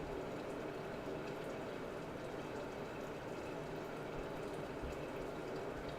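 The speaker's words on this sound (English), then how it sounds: "You can hear those lentils are almost done. Their sizzling has increased." Lentils simmering for a chicken miso soup with peas and asparagus, a steady close bubbling and sizzling hiss in the pot that holds even and unbroken throughout, with no talk.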